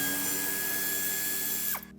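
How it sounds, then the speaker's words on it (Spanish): Power tool spinning out the wheel arch screws on a 2018 Audi Q8, a steady whirring rattle for nearly two seconds that stops abruptly, close and alone. "En ambos lados tendremos que desmontar los tornillos del paso de ruedas."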